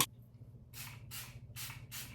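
Four short hissing bursts of a face mist spray bottle, evenly paced and close, over a low steady background hum.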